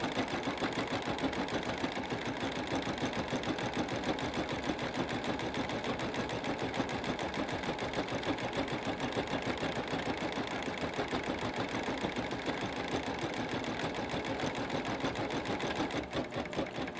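A Singer Quantum XL 100 sewing machine stitches continuously at a fast, steady rate, producing a close, even mechanical whirring with rapid rhythmic clatter that holds without pause for the whole stretch.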